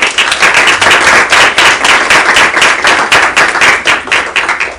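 An audience at a Spanish-language community talk about Venezuela in Jacksonville claps loudly to welcome a speaker, a fast, dense and nearly rhythmic burst of hand claps close by.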